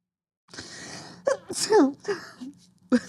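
A single sharp sneeze bursts out close to the microphone amid short breathy vocal sounds and a gasp.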